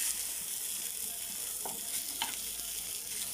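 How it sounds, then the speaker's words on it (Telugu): Fish pieces frying in shallow oil, Andhra style, a steady close hiss and crackle throughout with a couple of faint pops and no speech. "తర్వాత ఫ్రై చేసుకుంటున్నానండి."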